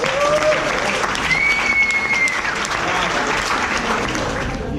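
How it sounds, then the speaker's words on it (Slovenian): A crowd applauds loudly and steadily throughout at an opening celebration, with a thin whistle-like tone rising briefly over the clapping. "Dajte mu prosim en aplavz."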